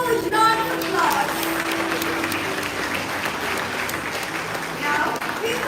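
A school merit award ceremony audience gives students a sustained round of applause, with dense, steady clapping from a crowd in a hall and faint voices mixed in.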